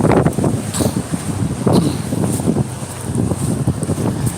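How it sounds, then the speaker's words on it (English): Strong wind roars and gusts across the microphone outdoors in Hood River, a loud, continuous rumbling buffet that swells and eases with no voices. "Getting windy out of here."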